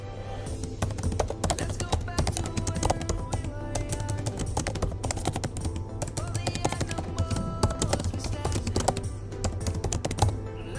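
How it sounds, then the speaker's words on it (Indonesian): Rapid, steady typing on a computer keyboard while a post title is entered in a WordPress site, with dense key clicks running continuously and close up. "Ketik judul di sini"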